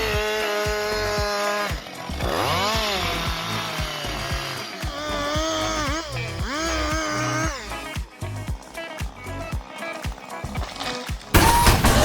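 A chainsaw cuts into trees during felling work, its engine revving up and down in repeated surges with sharp bursts of cutting noise, loud and close throughout.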